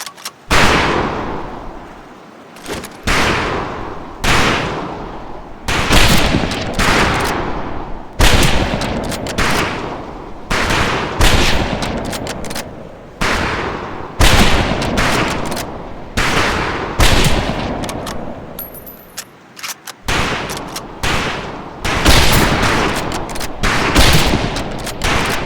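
Rifle shots crack out one after another at a firing range in Medal of Honor: Pacific Assault, loud, close reports at a steady pace of roughly one per second, each ringing off in a short decaying tail.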